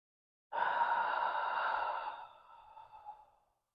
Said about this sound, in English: take some good deep breaths.